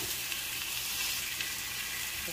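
A striped bass fillet fries flesh side down in a pan, giving a faint, steady sizzle that holds without a break and has no voices over it.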